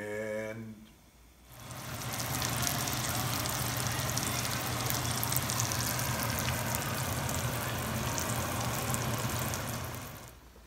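Shallots sauté in a pan for lobster bisque, giving a steady, loud broadband sizzle that starts abruptly after a brief quiet moment and holds evenly to the end, with no voices.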